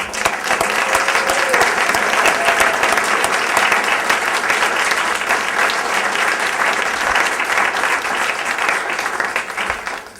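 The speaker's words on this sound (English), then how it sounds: "So I think they deserve another round of applause." An audience claps for honorees at a community gathering, a dense, sustained round of applause holding loud and steady for about ten seconds before tapering at the end.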